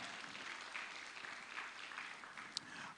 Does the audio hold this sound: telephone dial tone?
no